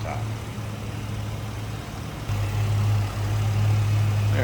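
A 1991 Ford Mustang LX convertible idles with its hood up, a low steady engine rumble that swells slightly louder midway and holds there.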